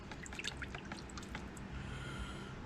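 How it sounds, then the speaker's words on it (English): Water drips and trickles from thin wooden boards soaking for a model ship's hull planking, a quick patter of close drops giving way to a softer steady trickle, with no talk. "we're soaking them in some water"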